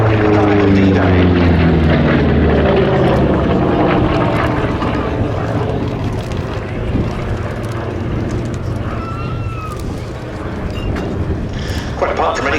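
Republic P-47D Thunderbolt fighter flying at the Duxford Battle of Britain Airshow, its radial piston engine a loud, continuous droning roar that shifts in pitch as it passes, with an announcer's voice faintly underneath.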